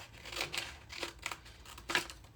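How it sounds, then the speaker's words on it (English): Small scissors snip through paper for junk journal craft work, three or four quick, close cuts spaced apart with quiet between them. "And then just taking my scissors, I'm just going to go there."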